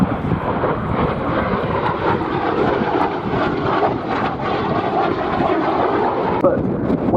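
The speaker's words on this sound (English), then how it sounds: "In comes the Sabre. Reaching 570 miles an hour." An F-86 Sabre jet flying in from the Korean War era roars as a broad, loud, steady rush of engine noise throughout, easing off slightly near the end.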